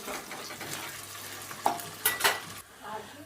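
Chopped onions fry in a pan over the heat, browning lightly while a spoon stirs them; a soft steady sizzle runs underneath, with louder scrapes and clinks of the utensil against the pan near the end, and no voice.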